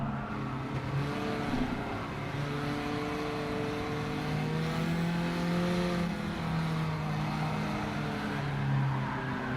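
A race car engine in a racing video game, the car sliding on cooked rear tyres, holds a loud steady drone that rises and falls in pitch as it revs and shifts, with no voices over it.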